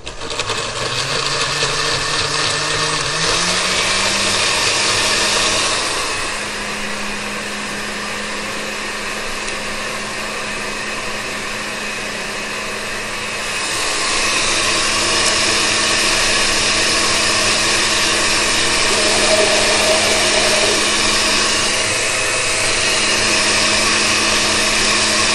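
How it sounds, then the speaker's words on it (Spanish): A kitchen blender churns ingredients for a keto enchiladas suizas sauce, its motor roaring loud and steady for about 25 seconds with a slight shift in pitch partway through and no voices. "Voy a ponerle en la licuadora."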